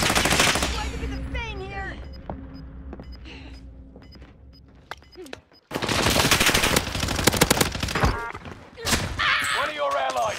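Rapid automatic gunfire from Call of Duty Warzone, first sparse scattered shots, then a long loud sustained burst after a short drop, with someone talking over part of it.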